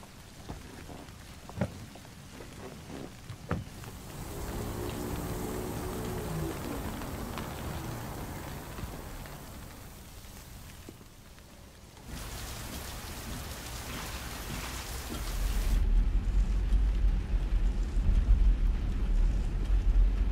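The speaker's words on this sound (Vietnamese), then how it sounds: "Mưa to như vậy." Heavy rain pours steadily and close, a dense hiss that swells and eases. A deep low rumble builds near the end, fitting distant thunder.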